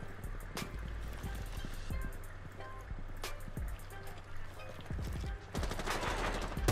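Rapid gunfire in Rainbow Six Siege, with repeated sharp shots and bursts of automatic fire spread through the clip, loud and close, ending in a denser volley.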